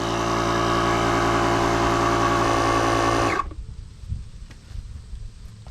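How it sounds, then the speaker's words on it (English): A jump starter's built-in air pump inflating a big GMC 2500 truck tire runs with a loud, steady mechanical buzz for about three seconds, then cuts off abruptly, leaving faint background rustle. "I'm just going to press and hold the pump"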